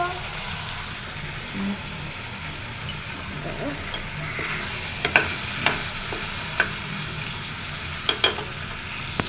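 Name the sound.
onions frying for a prawn dish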